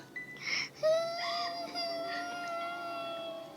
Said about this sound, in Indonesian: tiba-tiba mendengar suara tangisan